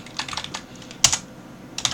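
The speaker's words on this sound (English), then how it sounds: "We're literally typing in the string in our program." Keys clatter on a computer keyboard in a quick, close run of uneven taps, with one sharper keystroke midway and a final short burst, no voices.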